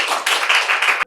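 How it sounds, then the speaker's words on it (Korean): A church congregation claps together for about a second, a dense burst of hand claps that stops abruptly. "그렇게 하실 하나님께 박수 올려드려요."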